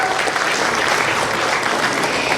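A crowd applauds at a party appointment ceremony during a year-end training gathering of a regional political party branch in Hongseong, Korea. The clapping is dense, steady and full for the whole stretch, with no voices over it.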